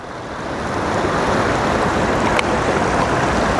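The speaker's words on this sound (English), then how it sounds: "A little more water in there, work that black sand," Water and black sand are swirled in a gold pan, making a steady close wash and slosh that carries on without a break.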